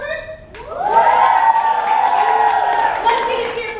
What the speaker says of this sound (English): Let's get a cheer from our performers.